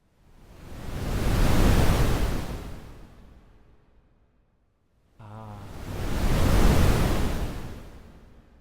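Two synthesized ocean waves made in SuperCollider with reverb added, each a broad noise surge that swells, peaks and washes away, separated by a brief near-silent gap.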